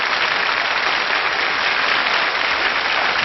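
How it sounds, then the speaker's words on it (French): A concert audience gives a large orchestra loud, dense, sustained applause, a steady wash of clapping that holds evenly throughout with no voices over it. "On vous reconduit en coulisses sous des applaudissements nourris"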